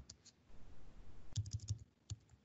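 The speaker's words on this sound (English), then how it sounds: "i'm just typing in the email" Fingers tap quickly on a computer keyboard while composing an email, a scattered run of light clicks that bunch into a close, crisp burst before trailing off.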